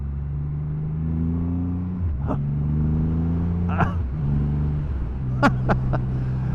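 A 2020 Triumph Rocket 3 GT motorcycle engine rumbles steadily on the road, with repeated shifts in pitch as it burbles on the overrun and a few short sharp pops near the end.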